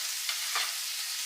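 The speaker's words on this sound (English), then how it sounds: "Definitely starting to brown on the bottom. Give it a good stir here." Ingredients browning in a pot for Zuppa Toscana, a steady bright sizzle with a couple of soft stirring scrapes, close and even, with no voices.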